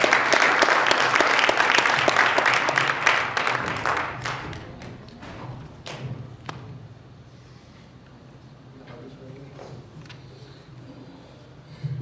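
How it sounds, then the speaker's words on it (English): Loud audience applause at a Martin Luther King Jr. birthday celebration ceremony, steady dense clapping for about four seconds before thinning to scattered claps and quiet room noise. "You can give him a round of applause."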